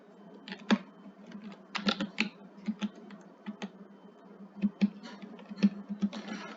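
Fingers type C++ code on a computer keyboard nearby, irregular bursts of clicky keystrokes with brief pauses, no one speaking.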